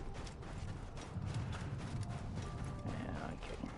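Horse hooves clip-clopping at a run in Assassin's Creed, the steady galloping beat mixed with game ambience and faint mechanical clatter, moderately loud and continuous throughout.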